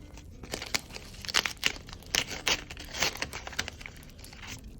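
Paper surprise packets being unwrapped up close, with a run of crisp crinkling, tearing and crunching bursts of varying loudness over several seconds, no talking.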